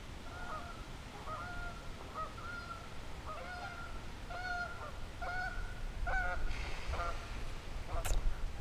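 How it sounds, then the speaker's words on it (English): Geese honking over open water during a bass fishing outing, a run of repeated nasal honks in a loose rhythm, moderately close, with a brief sharp call near the end over faint background noise. "The geese have arrived."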